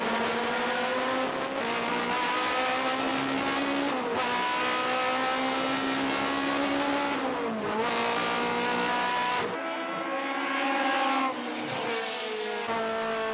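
A race car engine revs hard and continuously at close range as the throttle is floored, its pitch climbing and dipping through shifts, with a brief lull near the end before resuming, alone without voices.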